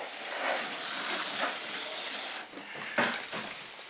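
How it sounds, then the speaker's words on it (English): A steady hissing spray of water onto a towel in a Subaru lasts about two seconds, then cuts off, followed by a few faint soft taps and drips. "Let's spray down the towel"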